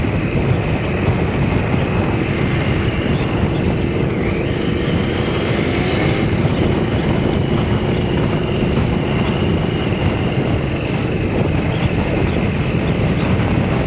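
A Triumph ST955i motorcycle is ridden on the road, its engine giving a continuous, loud drone under heavy rushing wind noise with no let-up.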